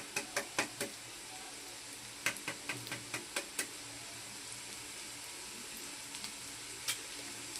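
An egg hits a hot pan of lightly fried onion and chanachur while cooking a spicy semolina dish, raising a steady close sizzle, with a run of sharp knocks and taps early on and a few more later.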